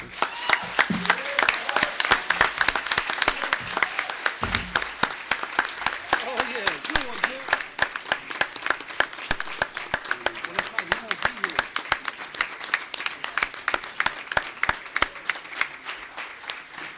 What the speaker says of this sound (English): can we give Councilmember Art a round of applause?